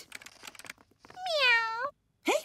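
A cartoon cat gives a long, clear, drawn-out meow, then a short second one, following quick lines of children's cartoon dialogue.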